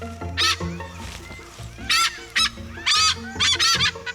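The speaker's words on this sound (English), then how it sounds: "The helmet-shaped structure on their bill acts as a resonating chamber, amplifying their calls." Loud, close honking calls from hornbills with helmet-shaped bill casques in Yala, several harsh bursts of two or three notes each, repeated in quick irregular succession over a quieter background.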